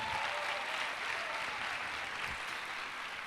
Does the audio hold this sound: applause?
yes